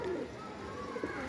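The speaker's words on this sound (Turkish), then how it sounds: "Genç bir kuş." A young bird gives a couple of soft, cooing calls close by, over a steady low background murmur.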